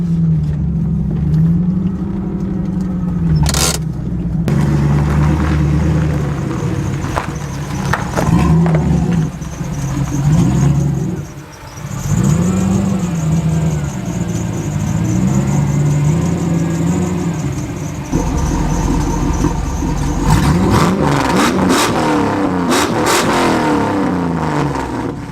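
A Chevy LS-powered car rolls into a garage, its engine rumbling and revving steadily up close throughout, with a brief dip midway and a rougher burst of throttle near the end.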